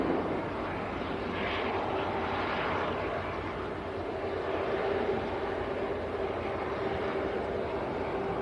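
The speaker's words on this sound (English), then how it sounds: "I've got another TUI Dreamliner taxiing out" TUI Boeing Dreamliner airliner taxiing out at Manchester Airport, a steady, fairly distant jet engine roar with a faint whine, continuous and unbroken, no voices.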